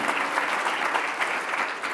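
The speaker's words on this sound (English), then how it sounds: "we should give a round of applause to her and all of the journalists in Minneapolis" A round of applause from a live audience at a talk about regional newspapers, steady dense clapping from many hands, moderately loud and continuous throughout.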